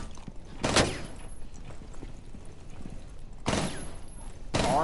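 Gunfire in Rainbow Six Siege, a few loud broadband shots spaced apart against a low game-ambience background, with one burst near the start and two more toward the end.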